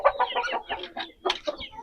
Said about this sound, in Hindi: ये चीना मुर्गा है माशाल्लाह, ये बहुत ही अच्छा मुर्गा है